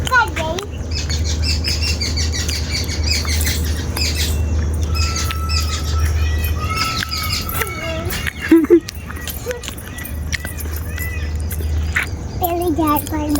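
Sparrows chirp and squawk near a village farm in short, scattered bursts over a steady low hum, while children and adults talk nearby.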